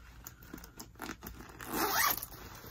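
Zipper on a bag being pulled open, a short close scraping run of teeth with a louder rasp near the end, alone without talk.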